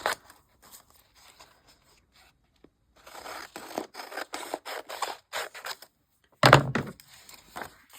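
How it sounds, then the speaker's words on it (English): Scissors trimming the overhanging edge of paper in a travel journal, a few brief snips and scraping rubs, then louder scratchy cutting strokes and one sharp burst near the end, close and alone. "it's a little too long. I'm going to cut off the edge."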